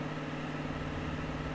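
Steady hum of road traffic in GTA San Andreas, engines droning in a continuous low idle-like rumble with a constant tonal whine, fairly quiet and unbroken throughout.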